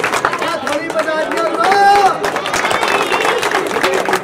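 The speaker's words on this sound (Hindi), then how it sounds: "तालियां एक बार इस मान व्यक्ति के लिए।" Crowd clapping for an honored young medal-winning dragon boat athlete at an outdoor gathering, continuous applause mixed with crowd chatter and voices throughout.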